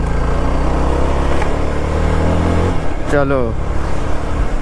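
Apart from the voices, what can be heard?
riding a motorbike on the road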